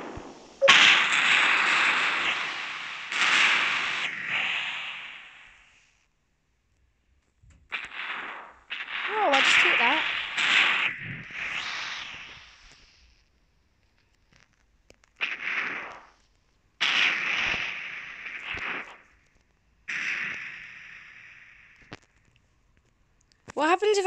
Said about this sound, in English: You probably can't see, but I'm firing loads at the moment.